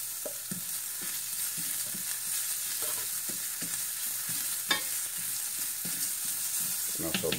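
Ginger and garlic cloves frying in a pan for kadai tofu masala, a constant bright sizzle with soft, regular stirring scrapes throughout.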